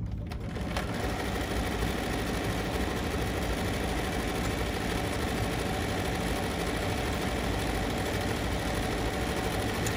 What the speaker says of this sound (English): now I'm just gonna satin stitch over this cord